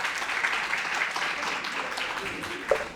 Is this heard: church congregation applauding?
yes